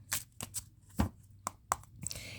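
Tarot cards being shuffled by hand, a series of short crisp riffling and slapping bursts with brief pauses between them, close and fairly quiet, with no talking.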